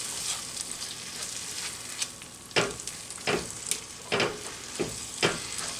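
Meat filling stirred in a hot pan for an air-fryer beef pocket pie, a steady sizzle broken by several sharp scraping strokes of the spoon, close and fairly loud with no talking.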